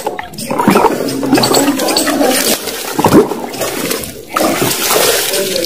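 Water splashes and pours loudly at close range as someone bathes, in uneven surging bursts with short pauses.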